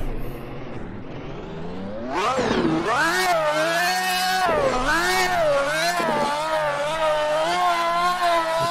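A Ferrari Formula 1 car at Mugello Circuit in a video game revs hard while spinning donuts on grass, a loud sustained high-pitched engine wail that surges and dips repeatedly with the throttle.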